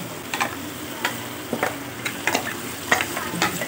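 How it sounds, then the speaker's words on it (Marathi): Cashew, onion and yogurt paste sautéing in hot oil in a pan, a close, steady sizzle broken by repeated scraping and tapping strokes from the stirring spoon, with no talk. "आता आपण ही जी काजू, कांदा आणि दहीची जी पेस्ट केली होती ती पण ह्याच्यामध्ये ॲड करूया."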